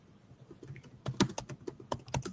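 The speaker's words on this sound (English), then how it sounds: "All right, I'm typing that in." Keys clatter on a computer keyboard in an irregular burst of close, crisp taps, with a few louder strokes standing out near the end and no voices.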